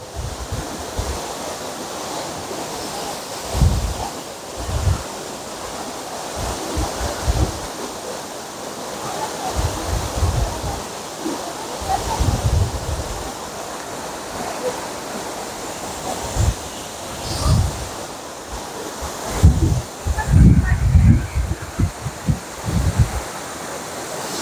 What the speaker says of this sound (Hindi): तो आप देख सकते हैं पानी के बहाव कितनी तेज है इस वक्त